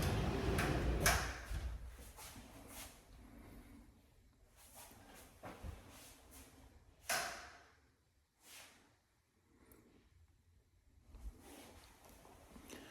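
A sliding bypass closet door in a home bedroom rolls open, with a scraping, rumbling glide, a few knocks and bumps, and quieter shuffling movement spread over several seconds.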